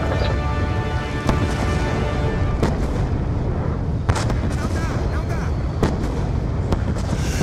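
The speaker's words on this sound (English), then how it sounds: "The mortars have stopped!" Mortar fire in Call of Duty Black Ops 2, with heavy booming impacts and sharp cracks landing every second or so over a dense, rumbling battlefield din.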